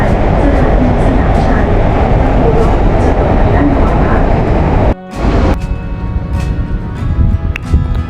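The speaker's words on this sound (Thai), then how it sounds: "นี่รถไฟฟ้า MRT เนาะเนาะคือรถไฟฟ้าแต่ดินนั่นแหละ" MRT subway train at an underground station in Thailand, a loud steady rumble of the arriving train that cuts off abruptly, followed by quieter station noise with clicks and a voice talking.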